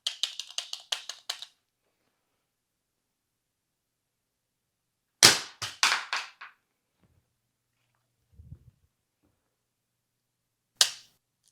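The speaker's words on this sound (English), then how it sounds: "It sucks dropping a pistol this expensive." A SIG P320 pistol dropped onto the ground in a drop test, heard as three separate bursts of sharp metallic clattering and bouncing, each followed by long stretches of near silence.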